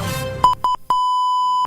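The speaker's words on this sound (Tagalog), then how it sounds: "Alarm." A radio broadcast alarm sounds as a few short electronic beeps in an irregular rhythm followed by one long sustained tone, loud and clear after a brief murmur of background sound.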